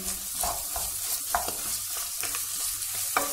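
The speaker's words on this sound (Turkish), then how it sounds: "Yarım yemek kaşığı domates salçası karıştırıyoruz." Tomato paste stirred into the frying ingredients for a cauliflower moussaka, along with a little pepper paste. A steady, close sizzle runs under scraping stirs and soft clicks of the utensil against the pan, with no voices.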